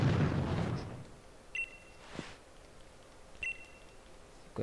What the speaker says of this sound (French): Une explosion.